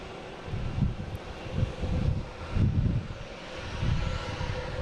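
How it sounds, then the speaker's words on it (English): An American Airlines Boeing 777 departs Boston Logan, a distant, broad jet roar that swells and fades in waves under steady wind noise on the microphone. "we got the big American 777 heading out here"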